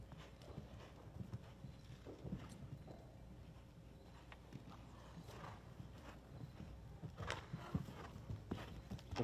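Horse hooves clip-clop steadily on an arena surface during a hunter seat equitation round at a medal final, a continuous moderate rhythm of footfalls with faint background noise.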